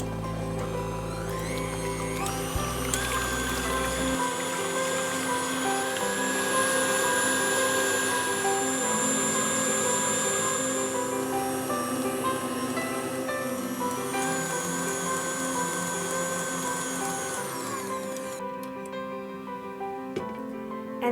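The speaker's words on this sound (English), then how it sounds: "I'm going to whisk up some egg whites and sugar to a stiff meringue" A KitchenAid Artisan tilt-head stand mixer (5KSM150) whips egg whites and sugar into stiff meringue at high speed, a loud, steady motor whine with a whirring whisk that runs continuously throughout.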